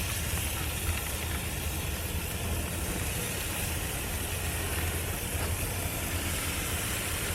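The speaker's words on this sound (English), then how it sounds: "good sound, ain't it? Y'all like that? Nice sizzle." Chicken and steak kabobs sizzle on an outdoor grill, a steady close broadband hiss that holds evenly throughout with no talk over it.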